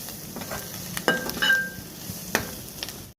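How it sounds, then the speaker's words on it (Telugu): Salted onions and carrots frying in a pan for a poori curry, a steady close sizzle with a couple of scraping stirs and light clinks of a spoon. "ఇలా ఆనియన్స్, క్యారెట్ అనేది ఫ్రై అయ్యే వరకు రోస్ట్ చేసేసుకోవాలి."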